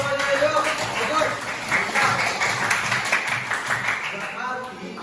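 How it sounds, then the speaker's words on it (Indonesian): A class of students applauds in a classroom, a dense, continuous patter of many hands clapping throughout, mixed with children's voices and chatter. "Tepuk tangan semuanya, yuk."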